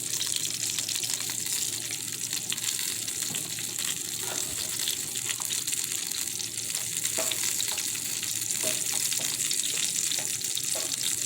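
Ingredients frying in a pan with chicken broth added, a continuous dense sizzle and bubbling with occasional scraping stir sounds, close and steady throughout.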